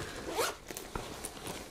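Zipper on the pocket of a Desigual handbag drawn open in one quick close rasping pull, followed by faint handling rustles.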